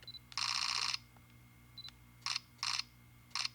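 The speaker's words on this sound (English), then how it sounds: "you hear that buffer?" Canon R50 mirrorless camera shooting a burst in electronic shutter mode, then writing to its buffer: a run of soft electronic clicks followed by short separate clicking bursts and faint beeps, close and quiet with no talk.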